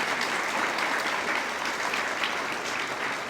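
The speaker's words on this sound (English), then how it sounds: "if I can have a round of applause for all these people now" A room full of people at a breast cancer symposium clapping in an even, continuous patter, moderately quiet and steady from start to finish with no talking.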